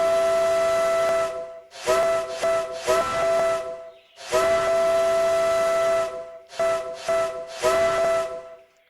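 Steam whistle of the Strike Witch, a 0-4-0T geared locomotive in a train video game, blowing far off in a run of long and short blasts with hiss, faint with distance and no talk.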